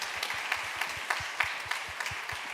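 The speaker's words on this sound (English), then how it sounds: "give yourselves a hand for that" Audience applause at a presentation on justice for Black women, girls and femmes, steady patter of many hands clapping at moderate distance, fairly soft and continuous for a few seconds.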